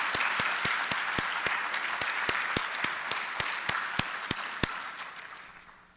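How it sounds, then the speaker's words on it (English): An audience at the Tennessee Aviation Hall of Fame ceremony gives a sustained round of applause, dense and even with a few sharp close claps on top, fading away toward the end. "we need to give them another big round of applause"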